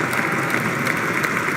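A large crowd at Trump's inauguration applauds a speech with a dense, continuous wash of clapping at steady loudness and no distinct individual claps.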